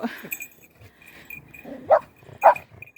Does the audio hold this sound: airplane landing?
no